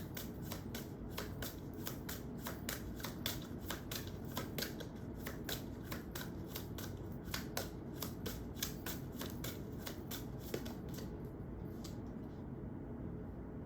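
Tarot cards are shuffled in a fast, steady riffle of crisp flicks that goes on for about eleven seconds before thinning out. The sound is close and quiet, with no talking.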